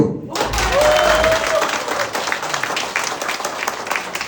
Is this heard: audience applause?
yes